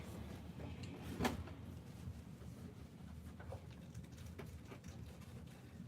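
A drawer in a home is pulled open and pushed shut, with one clear sliding knock near the start followed by softer rustling and faint handling sounds, close and fairly quiet, with no talking.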